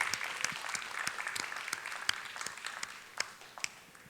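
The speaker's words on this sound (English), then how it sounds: "another round of applause for another great attachment" An audience applauds at a live glassblowing demonstration, a moderate crowd clapping with distinct sharp individual claps standing out, steady and somewhat distant, tapering slightly toward the end.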